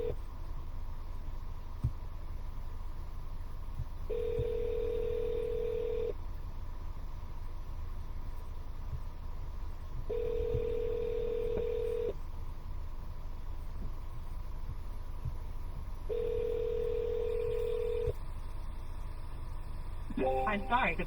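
Phone calls placed from inside a car during a cold calling session to property sellers, with three evenly spaced ringback tones, each lasting about two seconds, repeating roughly every six seconds over a low steady cabin hum, with no talk.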